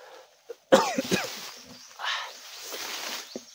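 One person gives a close, harsh cough burst followed by a couple of weaker coughs and throat clearing, all within a few seconds, with little else around it.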